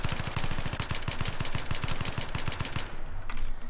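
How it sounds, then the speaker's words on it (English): Rapid bursts of F2000 rifle fire in the game Battlefield 3, tapped out in short close-range volleys with steady rhythm, then trailing off near the end. "So now tap fire with recoil control."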